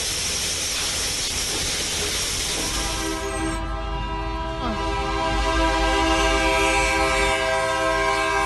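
A train sounds its horn in long sustained blasts at a level crossing with lowered barriers in Poland, the horn starting partway through over a steady rumble of the passing train, loud and close.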